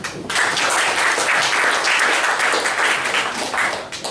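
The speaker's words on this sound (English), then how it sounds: "Round of applause, please" An audience at a business pitch event applauds presenters as they take the stage, a steady, dense wash of clapping that starts abruptly and holds at a loud level throughout.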